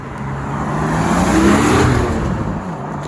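A Porsche GT4 with a big rear wing rolls into a foggy supercar meet, its engine swelling in a smooth, loud drone as it approaches and passes close by, then easing off.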